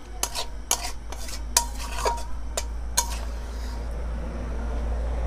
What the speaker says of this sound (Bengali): আমি প্লেটের ওপরে নামিয়ে দিচ্ছি।